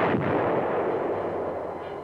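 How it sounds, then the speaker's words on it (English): Heavy tank and artillery gunfire booms in a battle between M-60 Patton tanks, enemy tanks and anti-tank guns, a loud close blast at the start followed by a long rumbling roll that fades slowly. "the tanks meet heavy fire from enemy tanks"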